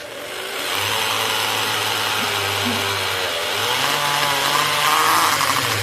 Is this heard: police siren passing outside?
no